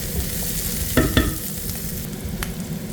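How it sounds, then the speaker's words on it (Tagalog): Garlic and onion sauté in oil in a pan, with a steady close sizzle and a couple of sharp utensil scrapes and clacks near the middle. "Patimisan ko na itong bawang at sibuyas guys."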